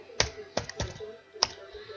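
Someone types a name on a computer keyboard, giving four or five crisp, close key taps spread irregularly over two seconds, with no talking.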